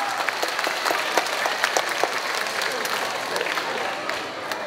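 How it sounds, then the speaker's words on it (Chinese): A crowd at a kindergarten graduation ceremony applauds, with dense clapping that holds steady and then tapers slightly toward the end. "再次给我们苏校长热烈的掌声"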